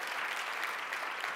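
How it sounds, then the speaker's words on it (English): Applause at a children and youth issues briefing, offered to legislators: a soft, even patter of clapping from a seated audience, fairly distant and steady. "Let's have a round of applause for those legislators for joining us today."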